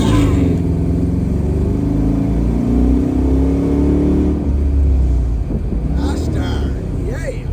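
A 1969 Chevrolet Camaro engine revs loudly and steadily up close, with deep rumbling throughout and a slight easing near the end; faint voices come in toward the close.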